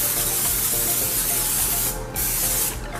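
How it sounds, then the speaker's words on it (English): Olive oil cooking spray hisses into a glass baking dish in two close bursts, with a brief pause between them and a short break near the end. "First, I'm gonna spray it with some olive oil spray"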